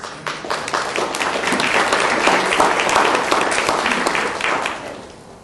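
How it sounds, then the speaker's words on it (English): An audience gives a round of applause at a talk, with dense clapping that swells quickly, holds steady for several seconds, then tapers off at the end. "we owe Deb and the other people who work on the listserv a round of applause for helping all of us"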